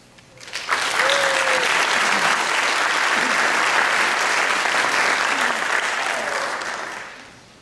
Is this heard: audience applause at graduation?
yes